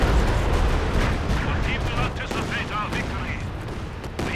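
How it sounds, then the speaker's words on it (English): A Katyusha rocket artillery barrage in a competitive 2v2 strategy game roars as a loud, continuous wall of blasts and crackling impacts, dense and rumbling throughout with no clear gaps. "Oh, that Katusha barrage."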